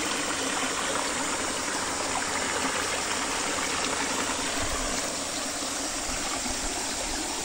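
Cold spring water from the foot of a mountain streams steadily in a continuous, full rushing wash, close and constant throughout with no voices.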